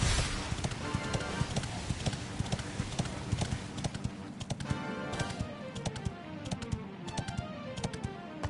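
Horse hooves clip-clopping in Dragon Quest XI, a steady rapid galloping rhythm of sharp hoof clicks, loud and close, running throughout without talk.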